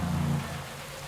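Steady broadband rain hiss falls over a road cycling world championship race, continuous and fairly loud through the short moment, with a low rumble underneath.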